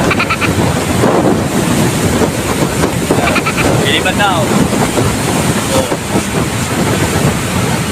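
Strong morning storm wind roars steadily as broadband rushing noise throughout, loud and continuous, with people talking and calling out over it.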